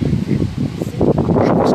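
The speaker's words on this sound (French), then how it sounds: "il y a du vent, vous allez avoir du mal à m'entendre" Outdoor wind buffets the microphone in a continuous loud rumble and rustle, gusting throughout with no clear break.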